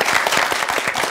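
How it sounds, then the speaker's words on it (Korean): A studio audience bursts into brief, dense clapping during a broadcast about Joseon-era metal type printing, a quick burst of applause. "여러분들의 박수가 더 컸으면 좋겠어요"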